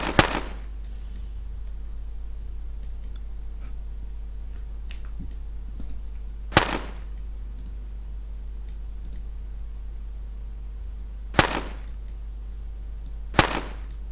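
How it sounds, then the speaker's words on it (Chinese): Firecracker-style sound effect from a Cocos Creator watermelon merge game, sharp isolated bangs popping at irregular intervals over a quiet background of faint clicks. "类似一个鞭炮的音效"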